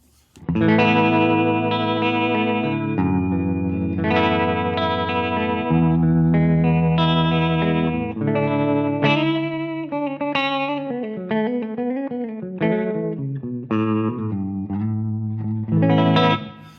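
Sustained electric guitar chords and melodic lines with a wavering vibrato effect, played continuously and clearly up close.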